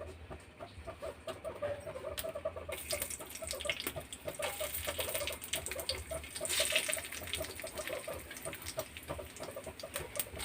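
Dry red chillies dropped into hot oil, a faint hissing sizzle that swells after a few seconds and continues steadily, with small crackles and no talking.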